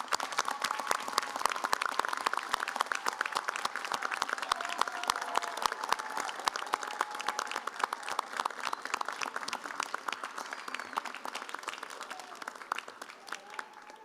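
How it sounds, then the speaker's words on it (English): Sustained audience applause filling a large hall at a Royal College of General Practitioners members' and fellows' ceremony in Manchester, dense and steady throughout, gradually thinning toward the end. "give your friends and families and colleagues applause"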